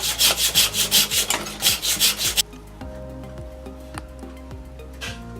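A hand saw running in an XM Equipement saw guide cuts wood horizontally: about nine quick, even rasping strokes, close and loud, then a quieter stretch with light knocks.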